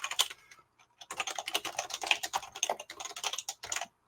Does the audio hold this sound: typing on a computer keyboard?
yes